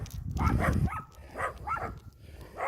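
Puppies bark in a run of short yips and whimpers, close and moderately loud, with a low rumble underneath at the start.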